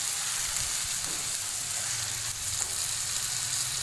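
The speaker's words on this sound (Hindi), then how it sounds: "चलें अब इसमें कीमा डाल देते हैं और कीमे को 5 मिनट तक अच्छी तरह भूनेंगे" Beef mince frying in a hot pan, a steady, dense sizzle that continues unbroken at close range with faint occasional stirring scrapes and no talk.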